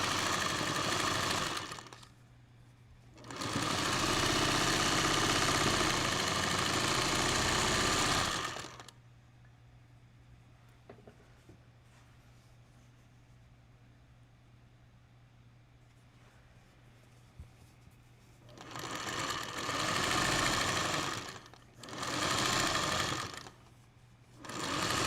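A sewing machine stitches a quilt top in two bursts, a loud steady whir running several seconds each, with a quiet hum and faint clicks between and a final pair of short runs at the end.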